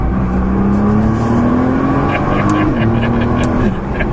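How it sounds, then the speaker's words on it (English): A 2015 Nissan GT-R Nismo engine revs hard and loud up through a paddle shift, pitch climbing, dropping briefly at the shift, then climbing again, with occasional voices in the cabin. "Let me do a little paddle shift in here."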